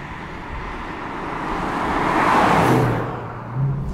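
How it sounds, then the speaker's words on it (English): A supercharged Aston Martin V8 Vantage idles with its valved exhaust closed, giving a steady, muffled rumble close by that swells gently midway and settles again, with no voices. "right now we're listening to it with the valves closed"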